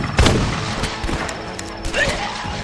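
A sawed-off shotgun fires in the flash game The Last Stand, sharp loud blasts scattered among clattering game effects over a few seconds.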